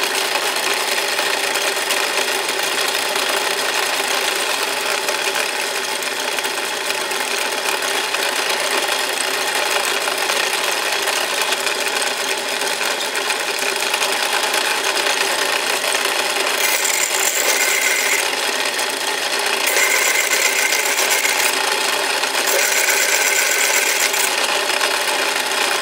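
An electric drill and a sander run together while cutting grooves into a homemade wooden grooved pulley, giving a steady, loud, continuous whirring and grinding hum throughout with no pauses.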